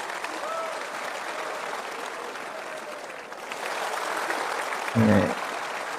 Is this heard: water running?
no